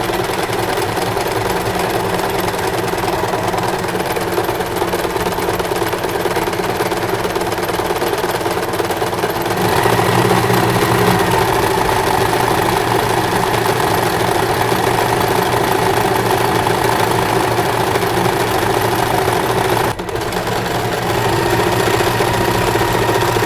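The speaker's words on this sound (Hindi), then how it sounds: "अभी हमारी जो मशीन है ये वाली सिलाई लगाना स्टार्ट करेगी" An Usha Allure DLX sewing machine runs continuously as it stitches, a steady, close, loud mechanical whir and rapid needle clatter that shifts tone slightly partway through, with a brief dip near the end.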